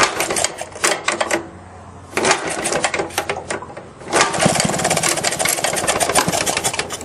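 An old Maytag gasoline engine on a washing machine is kicked over and fires up, its rapid loud popping exhaust chattering in uneven bursts before settling into a steady, fast-running beat.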